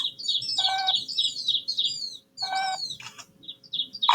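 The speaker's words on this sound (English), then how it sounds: "Do you hear the finches' songs?" Finches sing close by in a busy run of bright chirps and trills, broken by short harmonic beeping calls and a brief pause.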